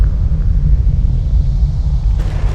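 Thunder and a roaring gust of wind in a dark fantasy storm, a loud, steady low rumble that holds throughout, with a brief brighter hiss near the end.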